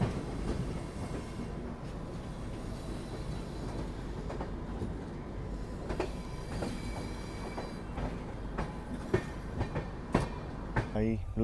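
Tirupati Jammu Humsafar Express running just after leaving Ludhiana, a continuous rumbling ride from inside the train with rhythmic clickety-clack wheel beats and occasional sharper rattles and clunks.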